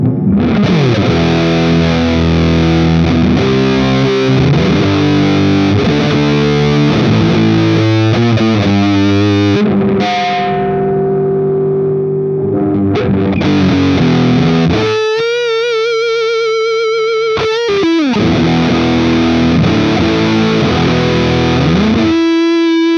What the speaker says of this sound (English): Okay, so now with got my Triangle Big Muff clone, I straight away just played it into this. Sounds like a Big Muff to me.